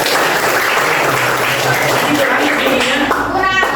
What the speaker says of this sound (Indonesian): tepuk tangan 2 kali